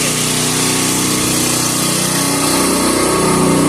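A small gasoline generator engine runs steadily and loudly up close with a high, buzzing drone that stays even throughout, with no talking.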